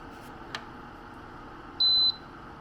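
A ToLife dehumidifier's night-mode button gives a single short electronic beep over a quiet background hum.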